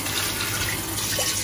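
Cold water pours steadily over cooked okongobong (ugu and egusi) in a colander, a dense continuous splashing rush at close range with no talk.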